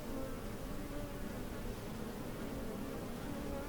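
Steady buzzing of bees fills the whole stretch, a dense continuous drone with no breaks, fairly close and even in level, with no voices over it.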